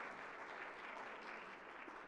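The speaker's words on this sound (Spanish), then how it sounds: "le damos un aplauso para agradecimiento de todo lo que nos han compartido" A conference audience in a main hall claps in thanks after a presentation, a soft, even, continuous patter of many hands at a distance.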